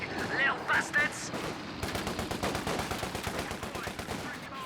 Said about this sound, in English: Enemy infantry firing, little bastards.